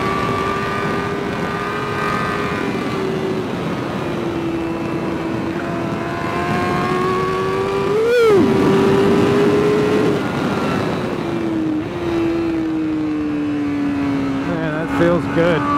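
A 2021 Honda CBR1000RR-R Fireblade SP sportbike accelerating hard around a race track, its engine note a sustained high-pitched wail that climbs and shifts through gears, with a brief sharp surge midway and wind rush throughout.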